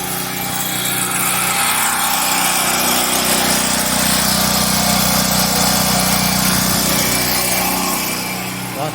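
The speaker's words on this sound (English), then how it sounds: "Fucking generator." A portable generator engine runs steady and loud at close range, a continuous high-pitched motor drone under broadband roar with no pauses and no talking.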